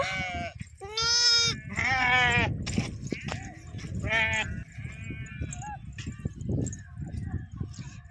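Sheep bleat repeatedly at close range in a flock held at dusk during lambing, several loud quavering calls overlapping, while someone talks and the animals shuffle about.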